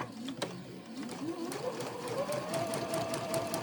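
A sewing machine stitches quilt fabric for a French General block, running in a steady continuous whir that rises slightly in pitch, with a voice talking over it throughout.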